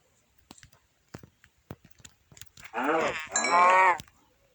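In the Minecraft video game, a few sparse clicks are followed by two close, loud, drawn-out cow moos that come one after the other.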